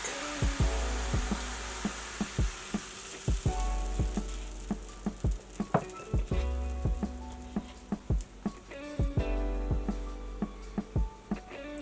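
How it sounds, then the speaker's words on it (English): Wholemeal pancake batter frying in a pan on medium heat gives a soft continuous sizzle, broken by irregular faint taps and clicks from the pan. "So you fry on medium heat."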